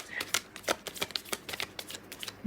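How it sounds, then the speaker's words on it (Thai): Tarot cards being shuffled by hand, a quick series of close, crisp riffling snaps and soft slaps in an uneven rhythm. "ขออนุญาตสับไพ่สักครู่นะครับ"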